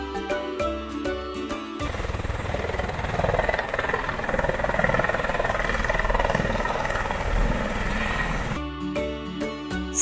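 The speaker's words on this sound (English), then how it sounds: "Helicopter. This is helicopter." A helicopter flying, a steady loud engine roar with rapid rotor chop that fills the middle of the clip between bursts of music.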